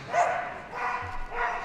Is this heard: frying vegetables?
no